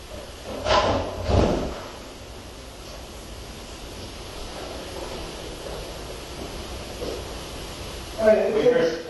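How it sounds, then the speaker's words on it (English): A stiff bedroom door in a master bedroom is pulled open and pushed shut with effort, giving two separate knocking, scraping bursts, one near the start and one at the end, with a quiet room hiss between them. "It takes a pretty good effort to open and close this door."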